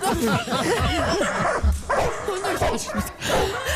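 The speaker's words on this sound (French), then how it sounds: "on lâche les pitbulls" Pit bulls bark, yip and whine excitedly in a loud, close, continuous burst of overlapping calls.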